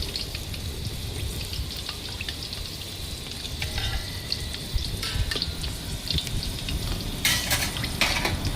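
Mushrooms deep-frying in a pot of hot oil at a Thai roadside food stall, giving a steady close crackling sizzle with occasional stirring scrapes and bursts of bubbling, no talk.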